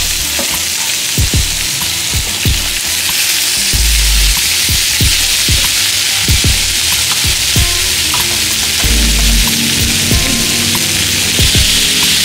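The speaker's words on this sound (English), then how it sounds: "then you can take your ground beef, start sprinkling it in there" Ground beef is sprinkled into a pan of browning onions for a Mexican-style beef burrito. The loud, dense frying sizzle runs throughout, with repeated thuds and scrapes as the meat drops in and is pushed around.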